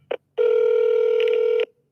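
An outgoing phone call rings to a winner: a short tone blip, then a long, steady electronic ringback tone lasting over a second, loud and clear.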